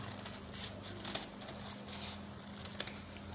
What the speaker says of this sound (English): So I'm just going to cut the excess out now.